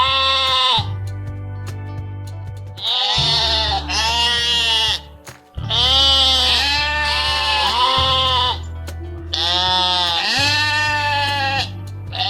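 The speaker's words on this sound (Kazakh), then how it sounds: "Бұл қой. Қой бе дейді." A sheep bleats in a series of long, wavering calls with short gaps between them, loud and close, with no other voices.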